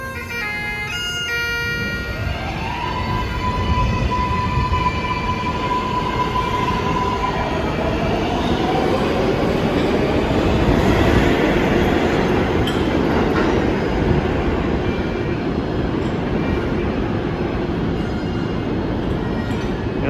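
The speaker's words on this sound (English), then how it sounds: "the AC traction motors of those R188s are competing with the lovely sound of the bagpipes" An R188 subway train on the New York City 7 line runs steadily and loudly with the whine of its AC traction motors, rumbling wheels and occasional rail squeals, heard close for the full stretch without talk.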